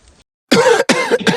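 Several short, sharp coughs or throat clears burst out close and loud after a brief quiet pause, the two main bursts separated by a tiny gap.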